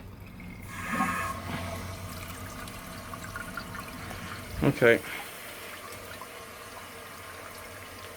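A 1957 Universal Rundle toilet tank in Dresden Blue refills with a low, steady hiss of running water, with a couple of brief clunks midway and a short spoken word near the start.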